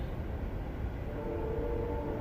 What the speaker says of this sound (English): We do have a train going by,